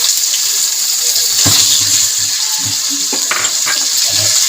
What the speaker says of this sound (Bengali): গোলমরিচ তেজপাতা তার সাথে লং এলাচ দারচিনি ভেজে নেবো ফোড়নটাকে